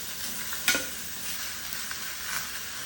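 Bone-in pork belly browning in a skillet, with a steady close hiss of sizzling fat, a sharp utensil scrape near the start and softer stirring later.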